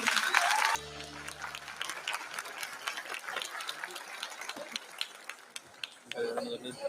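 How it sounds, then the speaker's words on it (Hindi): An audience claps for a dance performance by government school girl students at a cultural event, a steady patter of many hands after a brief burst of talk, fading toward the end as voices return. "कृपया जोरदार तालियों से हमारे साथियों का स्वागत कीजिए"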